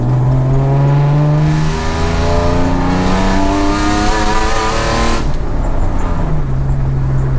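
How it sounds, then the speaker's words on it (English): A BMW E28 with an M50B25 engine swap, Schmiedmann headers and a 3-inch stainless exhaust revs hard through the gears, its rising engine note climbing and dropping between shifts, loud and continuous without talk. "sounds like a V8 a little bit, but the moment you get on it, it is absolutely insane"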